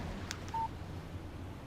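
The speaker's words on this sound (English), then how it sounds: "Text message from Barry." A phone text message alert in the game Alan Wake: a short electronic beep chirps once against a quiet, low ambient backdrop.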